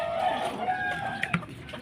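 Bantam chickens cluck and a rooster crows inside a coop, several birds calling close by in overlapping bursts with no talking.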